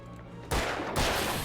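Two sharp gunshots half a second apart in the Alan Wake video game, each a sudden loud blast that rings on with a dense, noisy tail over a low background hum.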